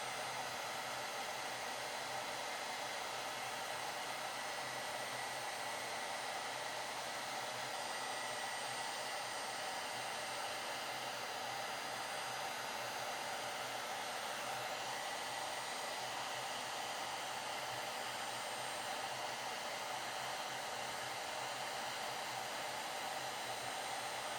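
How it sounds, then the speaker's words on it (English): A heat gun on low setting blows a steady, even roar while stripping paint from a 1980s Japanese Tokai guitar body, constant and close throughout with no talking. "Taking the paint off this Tokai. Just keep it on low heat."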